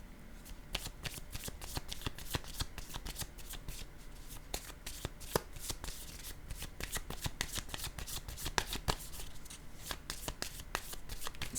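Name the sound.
playing cards being handled at a table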